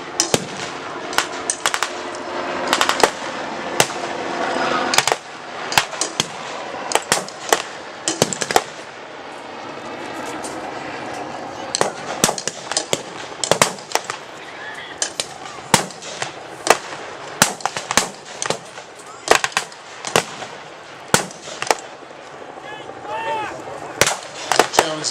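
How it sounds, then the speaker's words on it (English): Heavy gunfire on a village in 1944 Europe: sharp, loud cracks and bursts in irregular clusters, some close and some farther off, over a low rumbling background with a voice talking. "They're laying down heavy fire on the village."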